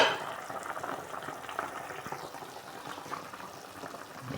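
Chicken soup bubbling at a low, steady simmer inside a covered pot, a soft continuous hiss and faint burble with no talk.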